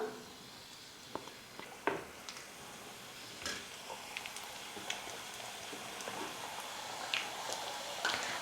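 Rava thattai dough pieces, made from semolina, frying in hot oil with a steady, moderately loud crackling sizzle, broken by a few sharp clicks and taps as pieces go into the pan.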